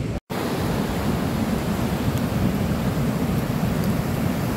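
Ocean waves roll onto an Australian shore in a continuous broad roar of surf, loud and steady with no voices.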